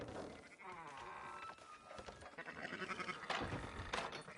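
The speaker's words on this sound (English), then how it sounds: "Fine sheep." Sheep bleating in the video game Red Dead Redemption 2, several wavering, nasal bleats rising over a quiet farmyard background, with scattered thuds and rustling, fairly faint and heard without talking.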